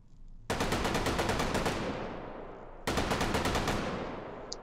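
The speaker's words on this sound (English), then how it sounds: "this is the Bren gun. Let's do some more shooting." A Bren light machine gun fires in the VR game Hot Dogs, Horseshoes & Hand Grenades: two loud, rapid bursts of rhythmic automatic fire, each trailing off, separated by a short pause.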